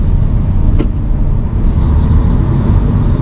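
Steady low road rumble from a car inching through a traffic jam in Germany, with a constant engine and tyre drone and a brief faint click partway through.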